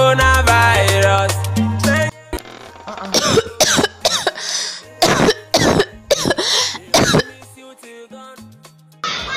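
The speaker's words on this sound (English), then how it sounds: "For you to be coughing in this period." Repeated harsh coughs come in bursts close by, several in a row, over music with a steady beat.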